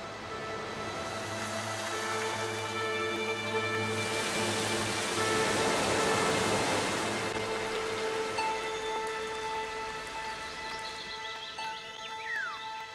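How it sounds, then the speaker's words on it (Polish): Steady rain pouring down in broad rushing streams, a soft hissing wash that swells in the middle and then fades, with faint tonal hum beneath. "Tak powstaje deszcz, który niezliczonymi wodospadami spływa w dół."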